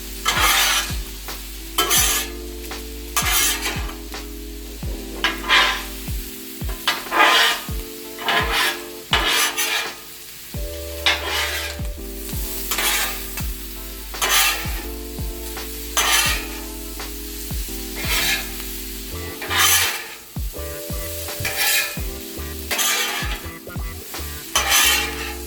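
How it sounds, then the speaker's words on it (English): Pork breakfast skillet being stirred and fried on a 36-inch Blackstone griddle: a steady sizzle under repeated scraping and clanking strokes of a metal spatula, close and loud, with no talking. "So let's go ahead and mix all this stuff together."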